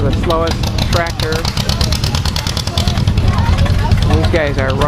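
John Deere tractors idle at very low revs in a slow race at an expo in New York, a steady lumpy chugging that stays close and constant while someone talks over it.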